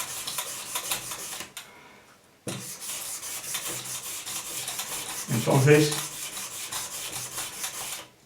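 Hand sanding with fine sandpaper on a piece being polished: repeated close rasping strokes with a brief pause, and a voice briefly speaks partway through.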